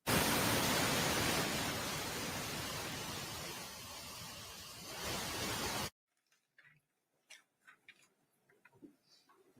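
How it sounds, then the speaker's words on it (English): White noise played in a courtroom during a trial, a steady broadband hiss running for about six seconds before stopping abruptly, followed by faint scattered clicks and room sounds. "Put the white noise on, ladies and gentlemen."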